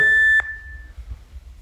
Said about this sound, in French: Au prochain bip